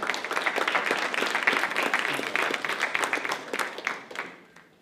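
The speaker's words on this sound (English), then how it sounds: "Give him a round of applause" Audience applause at a live-streamed community program, a dense run of clapping welcoming a park ranger, holding steady before thinning and fading out near the end.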